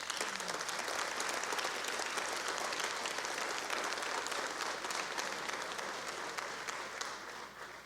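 Sustained applause from a legislative audience during a governor's address, a dense steady wash of clapping that holds for several seconds before tapering slightly at the end.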